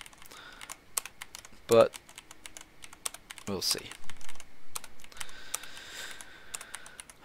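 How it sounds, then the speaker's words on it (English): A clicky full-size mechanical computer keyboard is typed on in irregular bursts of sharp keystrokes during Dwarf Fortress play, with someone speaking briefly in between. "Apologies for the clicky keyboard as well. I've brought my full-on mechanical job along with me."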